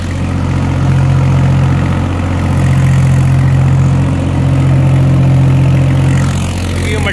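A tractor engine idles and churns steadily as it sets off ploughing a sandy field, a loud continuous low drone with a slight swell in revs, heard alone with no talking.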